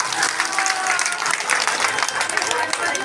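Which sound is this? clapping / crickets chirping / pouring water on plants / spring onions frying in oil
clapping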